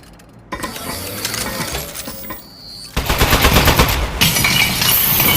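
Turret gunfire in the Aperture Desk Job video game rings out as loud, rapid automatic bursts, a short volley first and then a heavier, longer stream with metallic clinks, all close and without talk.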